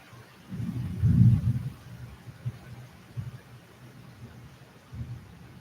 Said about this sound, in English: It is raining outside, so you can hear the sound.